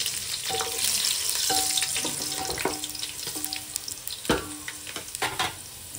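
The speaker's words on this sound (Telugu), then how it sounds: "ఇప్పుడు ఇందులో వెల్లుల్లి వేస్తున్నా" Garlic frying in hot oil in a kitchen pan, a dense close sizzle with clinks and scrapes of a utensil and a few sharper knocks toward the end.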